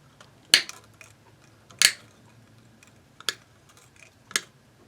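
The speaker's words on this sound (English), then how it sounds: "I'm going to just go right ahead and snip these babies." Old strings on an LTD Deluxe guitar being snipped with cutters: four sharp, close clicks spaced about a second apart, each a bright crisp snap over near silence.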